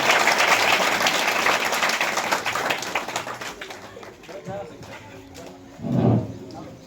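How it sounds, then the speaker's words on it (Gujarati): An audience claps loudly to welcome a guest at a primary school program in Mudhiyari village. The clapping is dense and strong at first, then thins and fades, with a short burst of voice-like sound near the end. "આપણે સૌ જોરદાર તાળીઓના ગડગડાટથી વધાવીશું"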